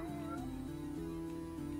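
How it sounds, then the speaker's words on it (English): A cat meows in the video game Heros Spirit, heard as short whiny tones over a steady, loud bed of game music. "Meow, meow, meow, said the kitty."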